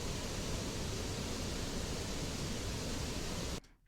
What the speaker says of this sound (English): I have used the original waterfall sound that I recorded in the very first video